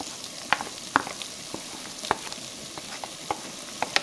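Onions go into a pan of frying chorizo and potatoes, bringing a steady sizzle with sharp clicks and scrapes of stirring scattered throughout, close up and without talk.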